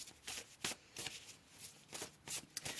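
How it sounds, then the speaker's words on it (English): Tarot cards shuffled and pulled during a reading, a series of quick crisp riffling bursts separated by brief pauses, close and fairly quiet with no talking. "Let's pull another card here."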